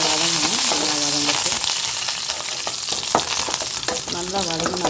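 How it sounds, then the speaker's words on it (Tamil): Onions sauté in a pan for Tamil-style dal, crackling and sizzling continuously up close. Stirring scrapes and clinks punctuate the frying, with a voice speaking faintly underneath at the start and end. "வெங்காயம் நல்லா வதங்கணும்."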